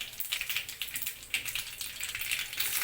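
Curry leaves crackle and sizzle in hot oil with mustard seeds and cumin while okra palya is being cooked; a steady bright frying hiss with rapid popping runs throughout, close and with no voices.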